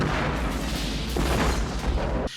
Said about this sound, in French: percuter de plein fouet un convoi chargé de produits toxiques et provoquer une violente explosion